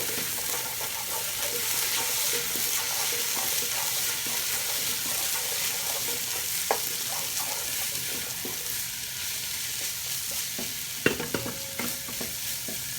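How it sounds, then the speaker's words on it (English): Crushed garlic cloves go into a pan of frying onion mixture, giving a continuous close sizzle with stirring, some watery hiss and a brief clatter near the end, with no talk. "Next, adding 2 crushed garlic cloves."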